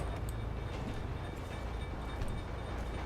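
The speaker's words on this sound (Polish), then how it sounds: "O, pociąg jedzie, widzę, to pojedziemy tędy." A train rolls past in GTA V, a steady low rumble and broadband wind-like roar holding at an even level throughout, with no voices.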